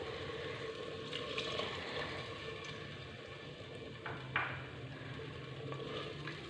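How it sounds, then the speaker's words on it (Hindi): Water poured into a pan of potatoes frying with fenugreek leaves for aloo methi sabzi, giving a steady loud sizzle and hiss that holds for several seconds, with a brief surge partway through, and no voices. "अब इसमें शामिल करेंगे तकरीबन 1 कप जितना पानी"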